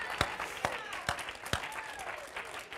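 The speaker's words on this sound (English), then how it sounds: "Let's just clap our hands into the Lord and praise Him right now." Congregation in a church service clapping hands in praise, a few sharp separate claps standing out over a lively room of scattered applause and voices.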